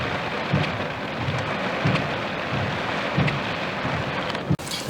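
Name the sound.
steady rain and rising wind over Lake Arthur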